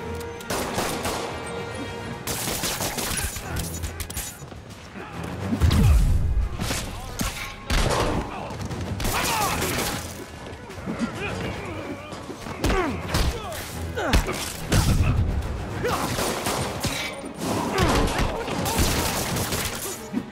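Gunfire in Marvel's Spider-Man video game: repeated bursts of automatic shots and heavy impacts mixed with shouting voices and chaotic game action, loud and dense throughout.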